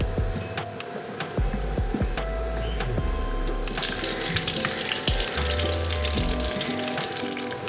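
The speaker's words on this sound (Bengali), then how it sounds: "এবার গরম তেলের মধ্যে পটলগুলোকে ভালো করে ভেজে নেব" Pointed gourds frying in hot oil in a home kitchen: low clatter and rumble at first, then a loud, steady crackling sizzle takes over about halfway through and continues to the end.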